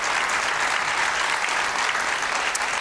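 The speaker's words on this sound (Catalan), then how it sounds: "Sí, sí, aplaudiu-lo, eh?" Studio audience at a televised political debate show applauding a guest, a steady, full burst of many hands clapping for about three seconds with no talk over it.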